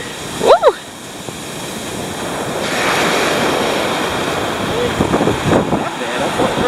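Pacific Ocean surf on the beach at Point Reyes, a steady roar of breaking waves with heavy wind buffeting the microphone, with brief excited voices and shouts over it.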